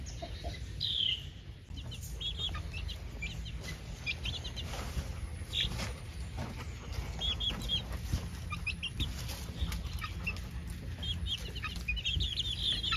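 Feathered-footed chickens cluck in short, scattered bursts within a garden under bird netting, mid-distance and steady over a low background rumble.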